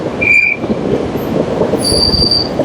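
The Kirandul Express travels from Visakhapatnam toward Araku Valley through a series of tunnels, its wheels giving loud, sharp, high squeals over a constant heavy rolling rumble.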